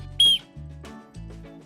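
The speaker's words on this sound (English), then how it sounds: "It's just an aluminum whistle that I already saw a lot of times about survival kit" An aluminum survival whistle gives one loud, shrill blast of about two tenths of a second. It sits between low, hummed or voiced tones, and no words are spoken.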